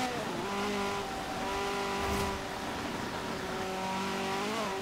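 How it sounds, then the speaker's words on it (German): A Ferrari F40 in Forza Horizon 4 drones along at steady revs in the rain, its engine tone holding and then shifting near the end, with faint crackling and popping from the exhaust underneath. "Dieses leichte Ploppern hinten aus dem Auto, dieses leichte Gewittergeräusch."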